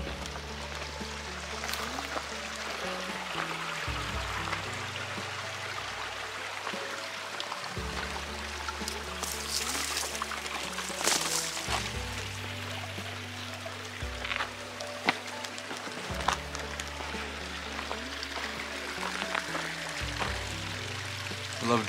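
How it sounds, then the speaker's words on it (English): Spring water in the Arizona desert pours and trickles steadily in a continuous burble, fairly close, with no talking over it. "That's where all that water is coming from."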